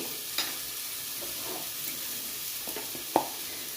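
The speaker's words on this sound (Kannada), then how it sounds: "ಮಸಾಲೆಯನ್ನು ಹಾಕಿಕೊಳ್ಳಿ ಸಣ್ಣ ಉರಿನ ಮತ್ತು ಒಳ್ಳೆ ಮಿಕ್ಸ್ ಮಾಡಿ" Masala stirs and fries in a pan over a low flame, a soft steady sizzle broken by a few faint scrapes and taps of the spoon, quiet and close with no talk.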